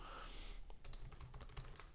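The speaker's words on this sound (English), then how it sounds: "Let's check out this keyboard here. So as you can see there, that's the keyboard." Typing on a Lenovo Yoga C930 laptop keyboard: a quick run of soft, close key clicks in an uneven rhythm over a quiet room background.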